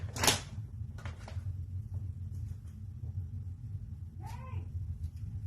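Cats in a home make brief noises, with a sharp burst near the start and a short meow-like call later, over low rumbling room noise.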